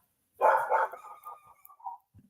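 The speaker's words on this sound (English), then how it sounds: "Joseph, are my dogs barking too loud?" Dogs bark in a short cluster of several close, loud barks, tapering into quieter yips and a brief whine before falling silent.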